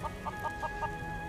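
Chickens cluck in short repeated bursts, about five quick clucks in a row, moderately near over a soft steady background hum in the video game Final Fantasy VII Rebirth on PS5.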